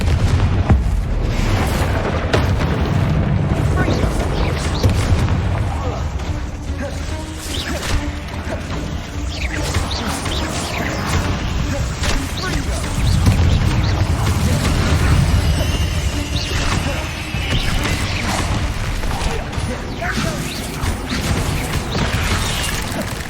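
Confringo blasting spell explosions in the video game Hogwarts Legacy: continuous loud crashing blasts and debris impacts, dense and booming throughout, with heavier surges midway.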